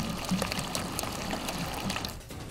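Water gushes from a leaking pipe on a roadside stretch by the Comalapa highway, a steady, close rushing and splashing that runs unbroken throughout with no talk.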